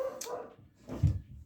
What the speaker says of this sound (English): wow, listen to those dogs